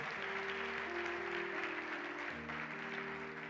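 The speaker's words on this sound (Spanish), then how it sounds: "Denle el aplauso al Señor." A church congregation claps together during a Spanish-language service, steady sustained applause filling the room alongside faint held musical tones.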